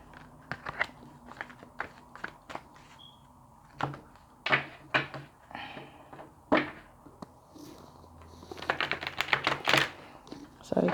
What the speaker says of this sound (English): I need to give these a quick shuffle.